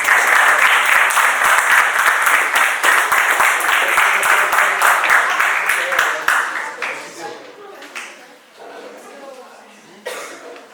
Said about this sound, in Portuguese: Também podem bater palmas para eles também.